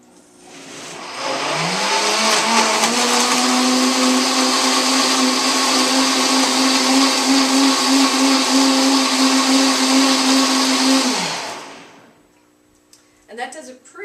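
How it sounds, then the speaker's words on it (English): A powerful countertop blender runs steadily for about ten seconds while making a meal replacement smoothie, with a loud, even motor whine that spins up at the start and winds down at the end, with nothing else over it. "And I have a super, super strong blender here, so that's not going to take very long to do this."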